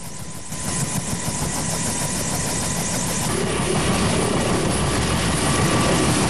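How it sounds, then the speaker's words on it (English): A Japanese Self-Defense Force rescue helicopter flying over Kamaishi in Iwate Prefecture: a loud, steady rotor and engine drone with rhythmic blade chop that swells slightly as it continues. "Many residents had to be helped out by Self-Defense Force helicopters."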